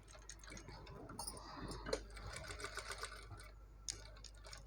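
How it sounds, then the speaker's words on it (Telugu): Sewing machine running steadily while stitching along the curved front of a frock, a continuous close mechanical whir with rapid ticking needle strokes and no talk. "నేనైతే ఇలా స్టిచ్ వేసేసుకుంటూ వస్తున్నానండి"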